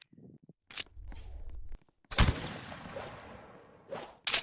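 Gunfire in the video game Outpost Defense comes in short loud bursts between quiet gaps, with one long rattling volley in the middle and a sharp blast at the end.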